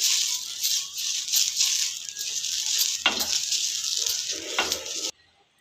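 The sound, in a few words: oil sizzling on a hot dosa tawa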